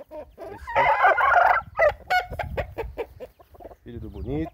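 A gold-colored Indian game rooster lets out a loud, raspy crow up close, followed by someone speaking over shorter bird calls and clucks.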